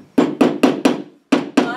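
Small nails are hammered into a wooden board for a string art Christmas tree, six sharp close taps in a steady rhythm with one brief pause, loud and alone.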